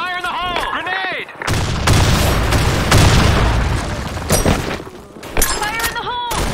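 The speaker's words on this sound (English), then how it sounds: "Fire in the hole! Grenade!" A grenade blast in the shooter BlackShot: a loud, close explosion with a sustained roaring rumble and gunfire crackle, followed by further sharp bangs, with voice callouts before and after.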